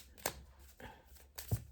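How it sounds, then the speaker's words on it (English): Oracle cards drawn from a deck, with soft papery slides and flicks in three short bursts separated by quiet gaps, close by. "I'm going to pull a couple more of these cards."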